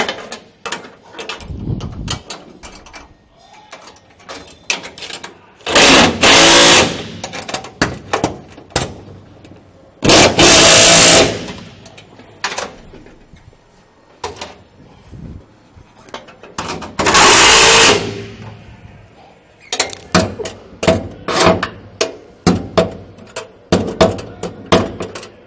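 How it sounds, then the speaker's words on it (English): A 3/4 inch impact wrench drives winch mount bolts, loud bursts of rapid hammering repeated several times, separated by clinks and clanks of tools and metal parts. "now we will use our 3/4 inch impact"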